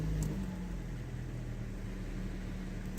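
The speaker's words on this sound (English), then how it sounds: "Starts up, leveling off to a nice idle." A used car engine runs at a steady, even idle after a simple start with no turbo or DPF fitted: a smooth, constant low rumble with a faint broadband hiss and no audible misfires.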